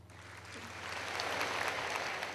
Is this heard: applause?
yes